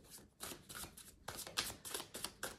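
Tarot cards are shuffled by cold hands that fumble the cards, producing a series of quiet, uneven riffling bursts and soft card slaps, close and faint, with no voices.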